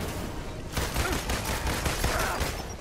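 Rapid gunfire in the action game Marvel's Avengers, a dense, continuous fusillade of loud cracks and impacts filling the whole stretch without talk.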